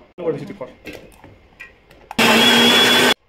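A mixer grinder blends onion, tomato and chili into a paste with a loud, steady whirring burst of about a second near the end, after a stretch of talking.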